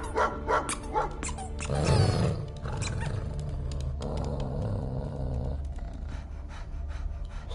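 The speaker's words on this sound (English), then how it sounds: "Smart dog." A dog barks in the Guardians of the Galaxy video game, with several sharp barks close up at the start over a bed of game music and ambience.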